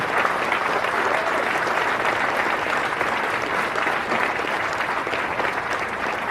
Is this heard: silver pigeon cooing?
no